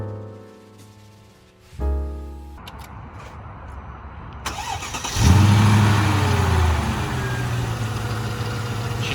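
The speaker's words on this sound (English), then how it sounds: "That sounds like an M113 to me with a supercharger." A supercharged Mercedes CL55 AMG with the M113 V8 cranks and fires up, then settles into a loud, steady idle close by after a brief flare of revs.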